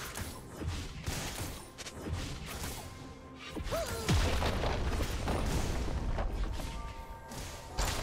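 Turret destroyed in a League of Legends match, a heavy crashing boom with debris and whooshes, loud and close over ongoing game effects.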